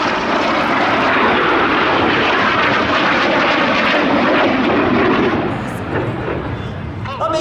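RAF Red Arrows jets performing at the Midlands Air Festival, a loud, broad roaring jet rush that swells and holds, with a commentator's voice audible over it.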